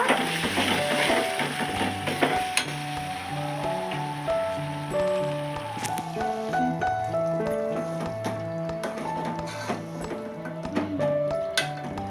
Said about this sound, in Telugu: కొద్దిగా వాటర్ వేస్తున్నా దీంట్లో